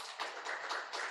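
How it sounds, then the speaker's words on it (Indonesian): A church congregation claps together during a Sunday worship service, four or five rhythmic bursts of hand claps in steady unison, fairly loud and full. "Tepuk tangan buat Tuhan."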